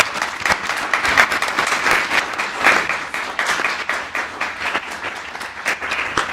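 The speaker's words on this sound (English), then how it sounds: "A round of applause for our panelists" Audience applauds panelists at the close of a disability history discussion, a steady, dense round of clapping from a crowd filling the room throughout.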